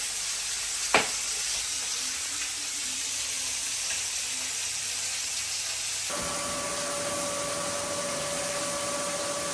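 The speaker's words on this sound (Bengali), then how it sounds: "এই যে মাছটা এখন লাল করে ভাজা নিতেছি।" Pieces of fish fry in a pan in a home kitchen, giving a soft continuous sizzle. A brief clatter sounds early, and a steady hiss with a faint tonal whine takes over partway through.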